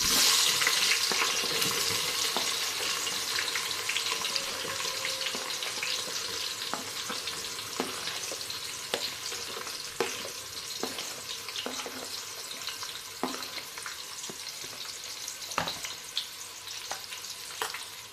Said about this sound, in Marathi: आता घालणार आहे कांदा